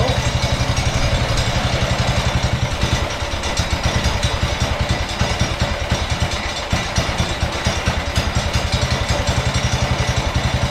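A Wisconsin engine drives a Leland alternator generator, its throttle opened up, running with a steady, loud, close-up chugging idle and rapid regular firing pulses that hold without a break.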